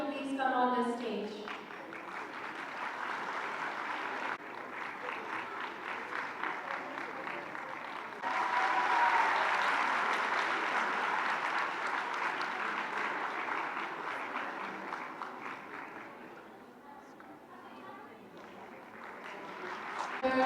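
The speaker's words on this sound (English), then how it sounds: "A huge round of applause for all of you." Sustained audience applause at a women's university convocation ceremony, steady and moderately distant, continuing for a long stretch with a slight swell midway and tapering toward the end.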